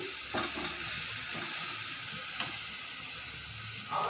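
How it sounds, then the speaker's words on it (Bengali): Spice paste for chicken curry frying hard in oil, a loud, continuous close sizzle with faint scraping stirs underneath, no talking. "ভালো করে মশলাটাকে কষিয়ে নিচ্ছি"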